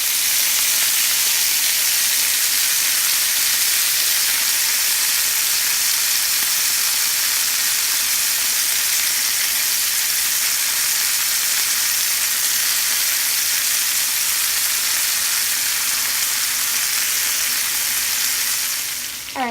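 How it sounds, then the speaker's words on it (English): Chicken breast frying in a pan, a loud steady sizzle with constant hiss and crackle, close up and unbroken with no voices. "so after 5 minutes, I'm gonna flip my chicken breast"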